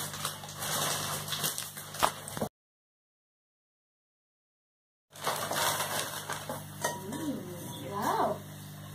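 A new kadai, an Indian cooking pan, is handled with scattered metallic clinks and knocks over steady background noise, broken by a stretch of silence midway; light domestic sounds and faint chirps fill the rest.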